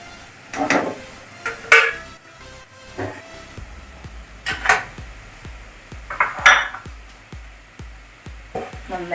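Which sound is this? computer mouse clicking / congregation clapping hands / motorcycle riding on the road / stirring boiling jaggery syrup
stirring boiling jaggery syrup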